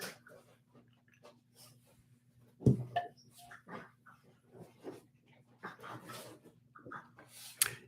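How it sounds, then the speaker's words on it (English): Dogs scuffle and play nearby, with grunts, short yelps and whimpers scattered over several seconds against a low steady hum. "no, dogs are wrestling."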